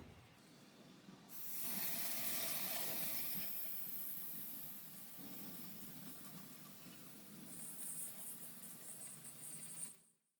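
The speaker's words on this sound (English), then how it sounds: "I hosed it down with brake cleaner to wash that stuff out." Brake cleaner hisses from an aerosol can into a BMW differential, a strong close spray starting after a second and continuing with varying intensity before cutting off near the end.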